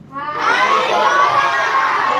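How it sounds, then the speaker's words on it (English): A group of schoolchildren at a children's literature festival quiz round shout an answer together, a loud, sustained burst of many young voices that swells quickly and holds steady. "all of you, shout the answer, come on"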